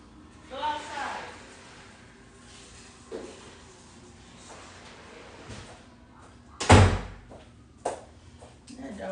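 A house door swings open and thuds as a dog is let outside, giving one loud knock-like bang followed by a smaller thump, with softer rustles and faint voices around it.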